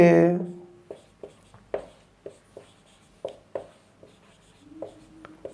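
Chalk or pen strokes from writing coordinates during a Class 11 straight-line maths lesson, a series of short scratchy taps spaced about a third of a second apart, heard close with someone speaking over them at the start and end.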